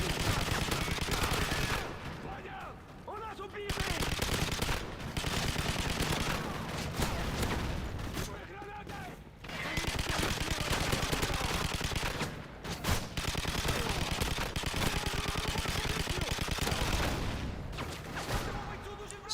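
Heavy machine gun fire in Modern Warfare 3 Survival mode, loud and sustained in dense rattling bursts with a few brief pauses between volleys.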